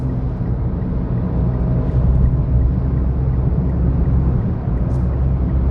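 A Mitsubishi Mirage's small engine drones steadily at half throttle while accelerating up a highway on-ramp at night, a loud continuous low rumble with road noise heard from inside the cabin, no talking.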